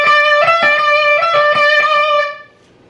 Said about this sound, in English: So the lick we'll hear will sound like this.